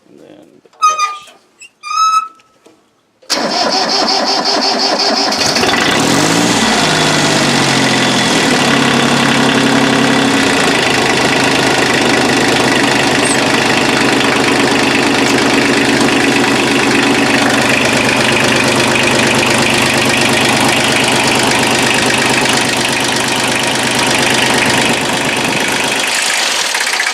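A Kubota L245DT tractor engine starts after a few short sounds, then idles loudly and steadily at close range for the rest of the clip, with no talking.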